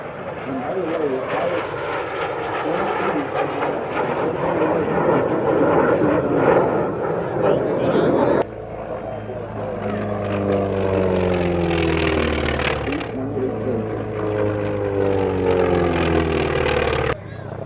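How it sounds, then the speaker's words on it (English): At the Warbirds Over the Rockies air show, a propeller trainer plane drones past, loud and continuous, its engine pitch sweeping as it flies by, while someone talks over it. "Next, you're going to see 3 different planes. They're trainers, a couple of jets and a trainer."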